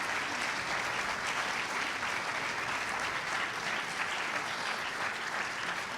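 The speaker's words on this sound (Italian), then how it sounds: "Un applauso, per favore." An audience at a gala concert for an international piano competition gives continuous, full applause for the jury, thick steady clapping throughout at constant loudness with no talk.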